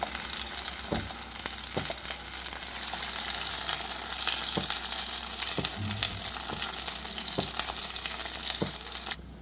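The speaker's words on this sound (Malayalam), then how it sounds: "ഈ ഒരു എണ്ണയിൽ കിടന്ന് ഇത് ഒന്നും കൂടി നന്നായിട്ടൊന്ന് വഴന്ന് വരണം" Ground onion paste frying in hot oil for an onion thokku, a steady close dense sizzle with occasional sharp ticks and soft scrapes of stirring throughout.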